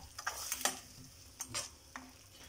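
A spoon stirs cumin into a pot of chilli with cooked meat and onions, giving scraping, clinking strokes in short bursts over a low simmer, close and moderately quiet with no talking.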